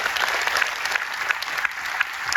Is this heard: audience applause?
yes